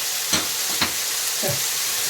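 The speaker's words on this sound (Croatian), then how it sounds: "Sad ćemo ovo malo da pržimo." Okra and vegetables fry in a little oil for Bey's soup, a steady close sizzle with a few brief scraping stirs.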